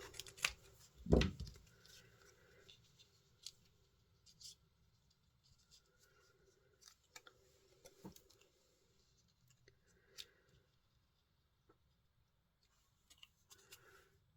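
Scissors cut through card while a greeting card with a floating frame is being made, giving one sharp snip near the start followed by quieter scattered clicks and rustles of paper handling, close up with no talk.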